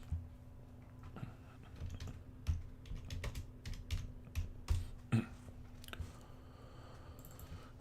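Keys clacking on a computer keyboard as a Magic card name is typed into a search, the strokes arriving in uneven quick bursts, close and fairly quiet, with no talking.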